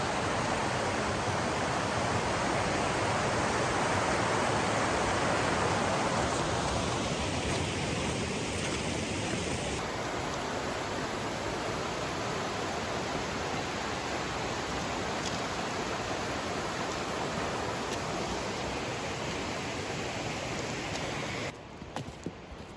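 Wolf Creek pours into the Hiwassee River, a loud, steady rushing of water close by that fills the whole stretch without pause, easing slightly partway through.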